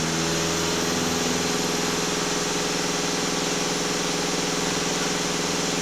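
Steady, loud drone of a VW Passat B8 2.0 TDI diesel engine held at raised revs under partial throttle, running continuously for several seconds with no pauses.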